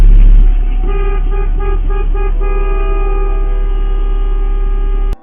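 A truck horn in traffic sounds a quick run of short toots, then holds one long steady blast over a constant road rumble before it cuts off abruptly.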